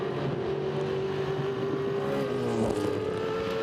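A V8 supercar engine at Ipswich drives steadily onto full throttle in a 2012 race, a loud continuous drone with a rising engine pitch throughout.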